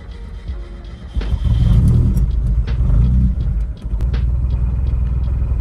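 A classic car engine catches and runs after sputtering misfires, settling into a loud, steady low rumble that dips briefly before holding its idle.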